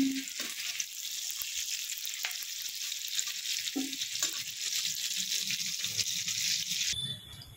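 Vegetables sizzle in hot oil in a pan while khichuri is being cooked, giving a steady close crackle with occasional stirring clinks that stops abruptly near the end.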